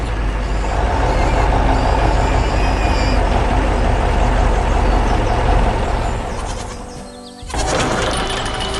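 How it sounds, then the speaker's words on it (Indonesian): A heavy white truck engine rumbles steadily with a rattling, grinding texture as it crosses rough, hard terrain, dips briefly near the end, then roars back up. "Truk putih sedang melintasi medan yang keras."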